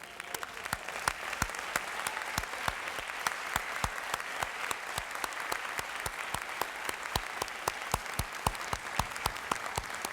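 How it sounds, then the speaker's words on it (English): An audience at a high school academic achievers banquet claps steadily for the standing honorees, a dense, even patter of applause from a modest indoor crowd, moderately distant, with no voices over it. "Let's give them another round of applause."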